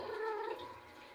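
A cat gives one drawn-out, fairly faint meow with a wavering, gargly tone that fades after about half a second, with no talking over it.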